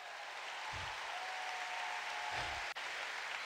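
A church congregation applauds during a worship service, steady, fairly faint clapping that fills the whole stretch without voices.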